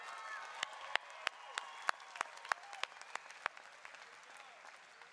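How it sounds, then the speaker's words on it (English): A commencement audience applauding at a university spring graduation ceremony, with brisk, scattered clapping from many hands and a few sharp claps standing out nearby, fairly soft overall and steady throughout. "Now you can applaud for that, that's worth it."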